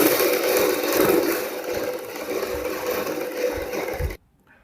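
A sewing machine stitches around the curved collar of a kurti with a steady, dense mechanical whir and faint rhythmic thumping. It runs continuously and then cuts off abruptly near the end.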